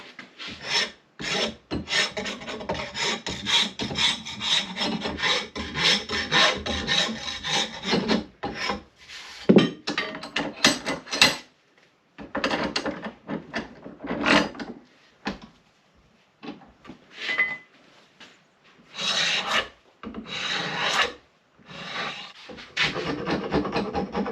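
Hand sanding of a wooden axe handle, a dry rasping rub in rhythmic strokes with short pauses, steady and close, no talking.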